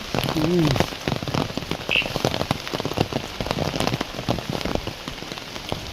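Rain falls steadily on a walk to the Yana caves, a constant close patter of drops on surfaces with brief bursts of nearby talk mixed in.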